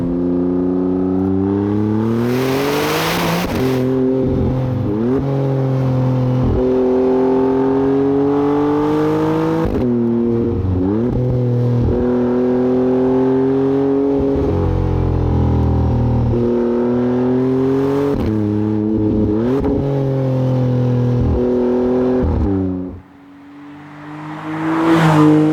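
A Maserati MCPura supercar in sport mode with a manual gearbox accelerates hard, its engine note climbing through the revs in repeated surges with quick gearchanges between them, loud and close, then falling away near the end.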